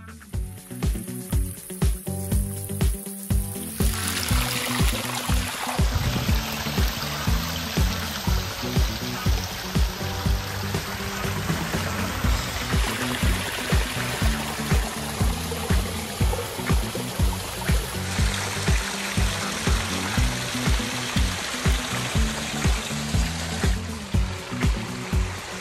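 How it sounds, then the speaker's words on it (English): Water pours down a large, dramatic pondless waterfall in a steady, rushing splash, joined for much of the time by a regular rhythmic thumping beat. No voices are heard. "it just shows you what you could do with a pondless waterfall, the different sizes"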